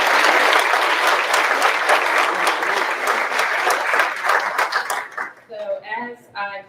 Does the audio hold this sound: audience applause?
yes